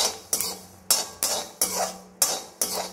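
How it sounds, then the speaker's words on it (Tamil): Roasted peanuts are scooped out of a pan with a metal spoon in five evenly spaced, sharp scraping strokes, each ending in a short rattle, close and fairly loud. "வேர்க்கடலையும் வறுபட்டுட்டு நான் இதை ட்ரான்ஸ்ஃபர் பண்ணிக்கிறேன்"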